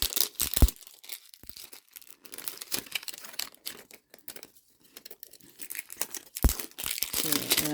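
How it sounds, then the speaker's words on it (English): Plastic wrapping on a Jurassic World Dominion toy package is torn open by hand, giving scattered close crinkling and ripping bursts separated by quiet gaps. "We do have a tear tab here, so let's see if it works"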